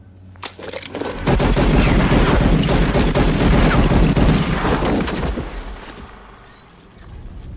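Rapid, dense volleys of gunfire from a Western-style movie gunfight in a Wild West town setting, loud and continuous for several seconds before tapering into a fading rumble.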